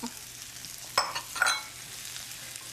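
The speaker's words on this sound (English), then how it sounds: "we'll stir fry the mushrooms and the celery for another 3 or 4 minutes" Diced celery and shiitake mushrooms stir-fry in a hot pan, a soft continuous sizzle broken by a couple of quick scrapes and tosses of the spatula near the middle, with no talking.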